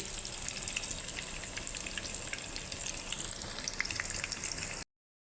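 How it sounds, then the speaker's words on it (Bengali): Green bananas (kacha kola) frying in hot oil, a steady dense sizzle with faint crackles that holds evenly for about five seconds before cutting off into silence. "এখন কাঁচকলাগুলো আমি ভেজে নিচ্ছি"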